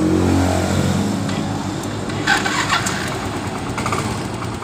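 A Yamaha Mio motorcycle engine cranks and catches, then settles into a steady, close, loud idle with a continuous low rumble throughout.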